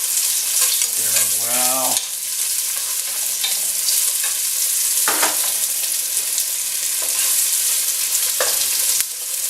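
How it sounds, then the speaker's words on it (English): Onions sizzling and frying in a pan with browned black bear meat for osso-buco, a loud steady hiss throughout with brief stirring scrapes and a short spoken word near the start. "what I'm going to do now is just add the onions in there"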